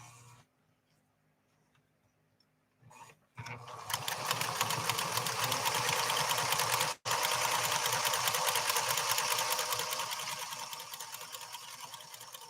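A PFAFF 360 sewing machine stitching decorative stitch 28, starting after a quiet pause and short bump, then a loud steady rapid whir with one brief break, easing off slightly near the end.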